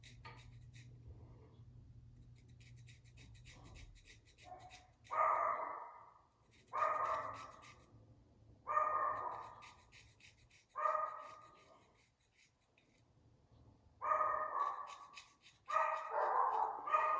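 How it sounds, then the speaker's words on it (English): Dogs barking in the background indoors, a series of about seven distant, moderately loud barks spaced a second or two apart over a quiet room, with faint scratching between them. "Don't mind the dogs barking in the background."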